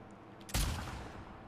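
A single gunshot fired at a red sign in The Last of Us Part II: one sharp, loud crack with a short decaying tail.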